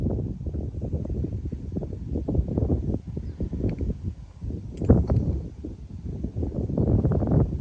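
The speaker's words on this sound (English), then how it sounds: "I'm really sorry about the noise of the wind." Strong gusting wind buffets the microphone on a golf driving range, a loud rumbling roar that swells and dips continuously, with faint rustling and a few light knocks.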